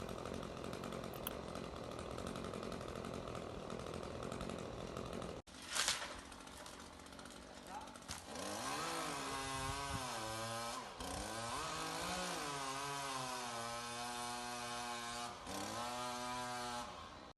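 A chainsaw cuts branches from a tree next to a neighbour's wall, a continuous buzzing engine that revs up and down repeatedly as it bites into the wood, loud and persistent with a brief drop partway.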